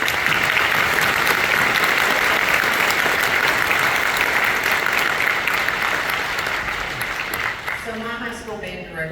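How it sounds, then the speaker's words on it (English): Sustained crowd applause at an honor band concert for student workers, a dense roar of clapping that fades toward the end as a voice begins talking. "we give them a round of applause for our students"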